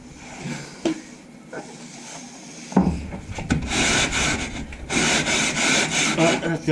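Sandpaper scrapes back and forth over a board by hand, a gritty rhythmic rasping that grows louder and busier after a few quiet, scattered strokes.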